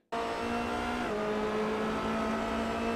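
Formula Renault race car in the iRacing video game at Brands Hatch, its engine droning loudly and steadily with a high tonal whine that shifts pitch once partway through.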